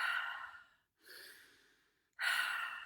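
Three slow, even breaths, drawn in through the nose and released through the mouth, close and soft with brief silent gaps between them and no talk.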